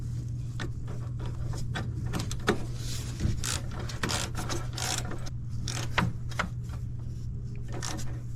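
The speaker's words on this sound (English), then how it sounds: "Now I'm gonna tighten the EGR tube bolt on the" Ratchet clicking in short, irregular bursts while tightening the EGR tube bolt on the back of the turbo of a Sprinter van with a leaking oil cooler, close and fairly faint over a steady low hum.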